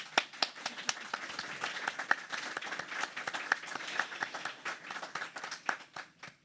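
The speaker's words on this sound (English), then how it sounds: "So can we clap to that, please?" Steady applause from a conference audience at closing remarks, many hands clapping densely with a few sharper claps standing out, continuing without a break and with no voices.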